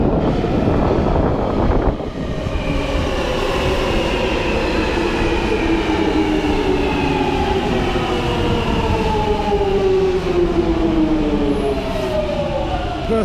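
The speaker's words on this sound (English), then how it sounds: "Train coming now." An underground metro train pulls into a station, its loud rumble steady throughout with rising and falling wheel and motor whine sweeping across the clip, close and continuous, with no talk over it.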